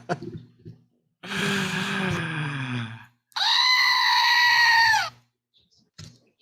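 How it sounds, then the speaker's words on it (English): A screaming goat sound effect blares out twice, a long raspy drawn-out bleat followed by a shrill, piercing, human-like scream, both loud and close with brief quiet gaps around them. "I'm getting my screaming goat out now"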